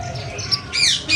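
Finch chirping just after being released to rejoin its flock outdoors, a few short bright squawks and tweets, the last ones louder and closer, over a low background hum.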